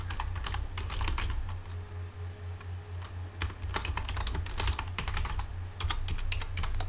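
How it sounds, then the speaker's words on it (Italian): Rapid, irregular clatter of keys on a noisy external computer keyboard, typed in quick bursts with short pauses, close and fairly loud over a steady low hum. "non ho usato la tastiera del computer, ho usato una tastiera esterna, che è un po' rumorosa"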